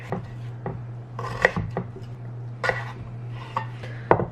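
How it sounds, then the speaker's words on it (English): A knife cuts vegetables into fry shapes on a cutting board, giving a series of sharp, close chopping knocks at an uneven rhythm over a low steady hum, with no talking. "So we're just gonna cut these into fry shapes"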